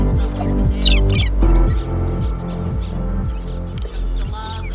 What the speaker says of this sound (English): there's corellas up the top, and then there's finches in the little hole there